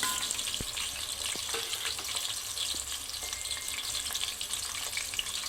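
Bay leaf and whole spices fry in hot oil in a pan, giving a steady close-up sizzle with occasional light crackles and stirring clinks, no voices.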